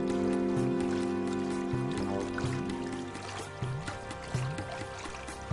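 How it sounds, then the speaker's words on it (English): Water whirling over stones in a babbling mountain stream, a steady gurgling flow with burbling pops near the end, set under a low tonal music bed with no talk. "At each stone, the water whirls and draws in air."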